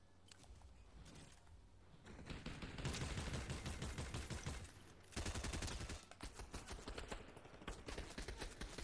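Dense bursts of rapid automatic gunfire ring out in a Fortnite match, loud and continuous for several seconds with brief gaps, mixed with mechanical clatter and no talking.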